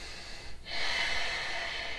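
A single deep breath during a vinyasa yoga flow, a short pause and then a long, steady airy exhale, close and fairly soft.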